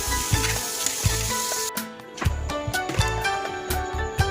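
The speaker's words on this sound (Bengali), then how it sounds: "আলুটা এবার আলাদা করে ভেজে নিচ্ছি" Potatoes fry in hot oil during preparation of potol kopta, with a steady close sizzle. Regular soft knocks, like stirring, recur about twice a second throughout.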